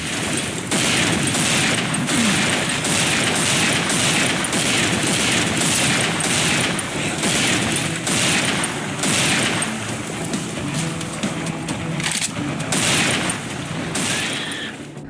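Rapid, loud scoped rifle gunfire in the video game Serious Sam 4, a long dense stream of sharp shots with heavy booms mixed in, close and continuous throughout.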